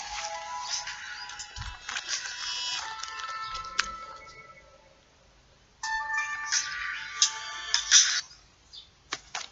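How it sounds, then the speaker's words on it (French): Mobile phone ringing during a French interview: a bright electronic ringtone melody plays close and loud, stops, then resumes in a second burst with sharper tones; no talk over it. "Excusez-moi, je n'avais pas coupé le téléphone."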